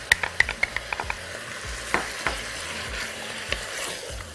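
Onion tossed onto meat frying in a pot for an Egyptian lubia with meat dish: a run of sharp clattering knocks and stirs over a continuous sizzle, then quieter frying.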